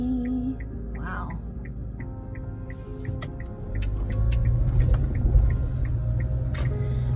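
A truck rounds a corner, its low engine rumble swelling midway and staying heavy, while a faint, regular ticking and some other street noise sound throughout.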